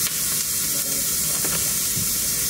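Onions and peppers sizzle steadily in a hot pan as they are tossed, a continuous close frying hiss with faint stirring scrapes throughout.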